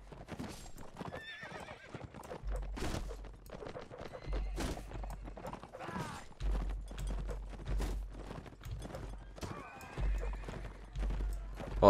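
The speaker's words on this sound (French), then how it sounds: "parce que là, il n'y a vraiment que de la cavalerie." Cavalry horses in the video game Mount and Blade Warband clip-clop steadily over the ground and whinny now and then, many hooves at once, moderately loud, with battle noise mixed in.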